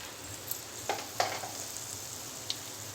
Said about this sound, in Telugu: ఆయిల్ వేడిన తర్వాత అల్లం వెల్లుల్లి పేస్ట్,